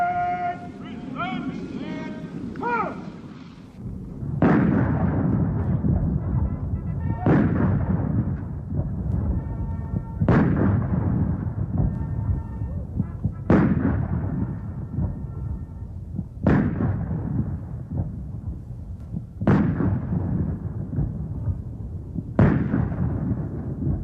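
Artillery firing a 21-gun salute at a 1968 South Lawn welcoming ceremony: heavy booms at an even pace of about one every three seconds, each decaying into a rumbling tail, after a short opening of music or voice.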